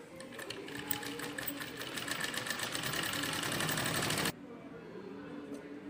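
A sewing machine top-stitches a jute bag in one steady, close run of fast rhythmic clatter lasting about four seconds, then stops abruptly, leaving quieter handling noise with faint speech.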